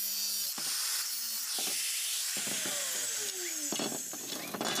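A metal wire ring being cut in two with a high-pitched whining power tool, a continuous loud grinding screech with brief bursts and dips as the blade bites into the metal, close up and with no talking.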